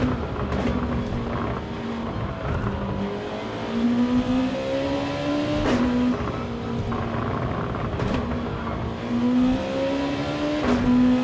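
A 2016 Honda NSX Concept-GT race car on Tokyo Expressway in Gran Turismo 7 howls continuously, its engine pitch climbing and dropping through repeated gear shifts at steady volume, with no talk.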